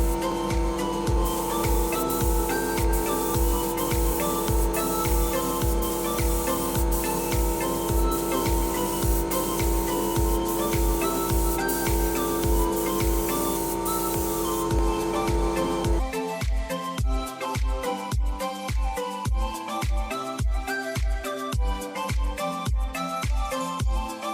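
A spray gun lays a full wet top coat on vehicle parts outdoors, a loud continuous hiss with a rapid, regular pulsing rhythm that shifts to a sharper, more clipped pattern partway through.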